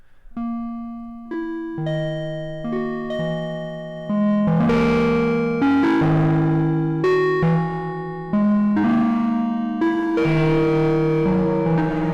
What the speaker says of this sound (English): grab a filter and start playing around with massive amounts of distortion